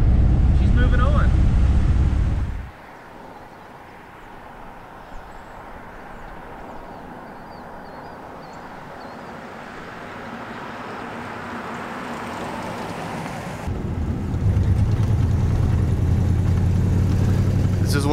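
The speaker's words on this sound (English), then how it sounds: "This is what it's like driving an old 51 model Ford." Old 1951 Ford with a flathead V8 driving along, a steady low engine rumble and road and wind roar from inside the car, louder at the start and again near the end.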